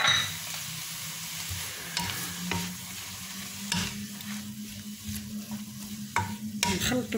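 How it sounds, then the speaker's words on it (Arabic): Noodles with chopped mushrooms are stirred and mixed in a hot pan, a steady sizzle of frying under intermittent scraping and clinking from the utensil against the pan, close and alone without talk. "نخلطو الكل مزيان."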